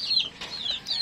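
Hungry young chickens waiting to be fed, chirping in rapid high peeps, several overlapping calls in about a second, close and clear with no talk.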